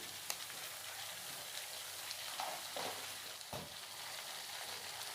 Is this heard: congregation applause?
no